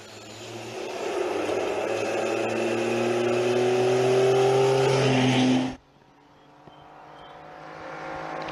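A rally car with a CVT drives through an S-curve on a special stage at TGR Rally Shibukawa, its engine drone rising steadily in pitch and loudness before cutting off abruptly to a faint, distant hum.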